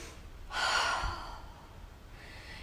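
A big, deep breath during a strength workout: one loud, close, breathy inhale, then a softer exhale trailing away, with a fainter breath near the end and no talk.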